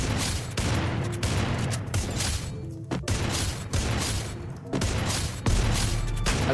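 Rapid gunfire bursts from weapons being switched during Free Fire video game shooting practice, loud and dense with brief gaps, no speech.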